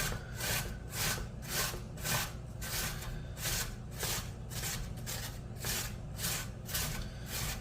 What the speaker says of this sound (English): I'm going to grate my zucchini.